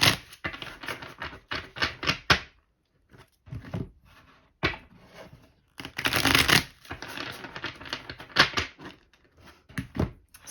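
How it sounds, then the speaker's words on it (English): Tarot cards are shuffled on a table in quick papery riffles and clacks, with bursts of shuffling separated by short pauses, close and fairly quiet, with no talking. "I'm just going to do the shuffling"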